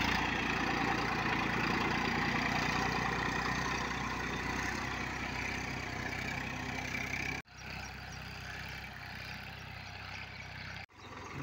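A Massey Ferguson 1035 DI tractor with an old-model silencer runs in first high gear, a steady low diesel drone that dips briefly twice as the sound cuts out, with no talk.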